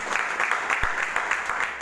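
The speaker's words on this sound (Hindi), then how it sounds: "तो एक बार जोरदार ताली बजाएंगे।" An audience in a hall claps together, a brisk, continuous round of many hands with slight pulses and a soft thump partway through.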